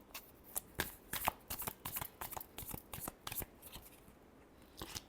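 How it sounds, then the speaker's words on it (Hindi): Tarot cards are shuffled by hand in a rapid run of crisp riffling flicks and slaps, close and fairly quiet, with a short pause near the end. "Last shuffle."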